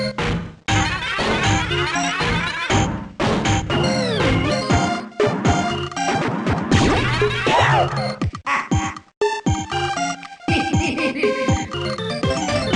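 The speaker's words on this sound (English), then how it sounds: "I like the noises that Wario makes." Busy WarioWare Inc. Mega Microgame$ audio full of chirpy synthesized effects, boings and Wario's cartoonish vocal noises layered over bright electronic music, loud and continuous.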